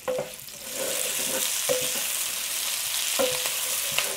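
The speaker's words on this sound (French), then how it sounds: "on va mettre les oignons, l'ail et les saucisses. Et on va faire revenir ça pendant 3 minutes." Onions, garlic and sausages sizzle steadily in hot oil in a wok, a loud continuous frying hiss with a few brief stirring scrapes, close up and without talk.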